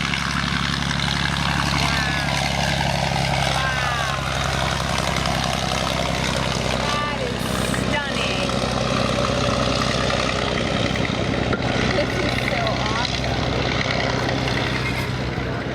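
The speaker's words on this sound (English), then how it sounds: "full throttle on the 180 horsepower Mercedes engine" A 180 horsepower Mercedes engine on a replica World War I biplane roars steadily at full throttle, loud and constant throughout with a deep droning hum.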